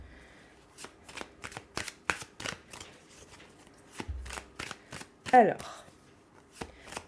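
Tarot cards riffle and slap together in quick, crisp bursts while someone speaks French softly over the shuffling during a reading.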